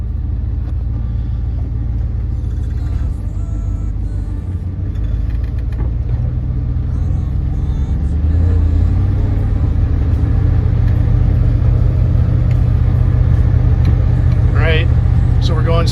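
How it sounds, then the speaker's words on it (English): A car out on a test drive after its steering wheel was replaced, with a steady engine rumble and road noise throughout that grows louder partway through as the car speeds up. "So we're gonna go for a little test drive to see how we did."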